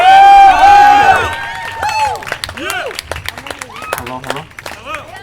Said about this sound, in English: Give a round of applause for Joelle.